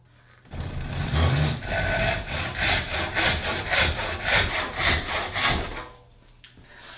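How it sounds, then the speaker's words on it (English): A hand wood saw cuts through a piece of wood clamped sideways in a bench vise, with a loud, close, rhythmic series of push-pull rasping strokes that stop abruptly near the end. "we're going to turn it in the vise sideways, using our wood saw again"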